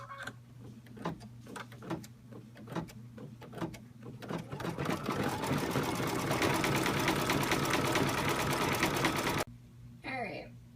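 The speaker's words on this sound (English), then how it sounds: "the machine is now going to stitch out the satin stitch all the way around" A home embroidery machine sewing an appliqué satin stitch for an in-the-hoop anchor bag: scattered needle taps build into a fast, dense, steady mechanical chatter that then stops abruptly, under a faint background hum.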